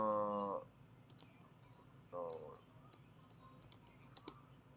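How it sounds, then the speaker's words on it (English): Faint typing on a computer keyboard, with sparse, soft key clicks in a quiet room and brief tonal sounds near the start and middle. "Typing."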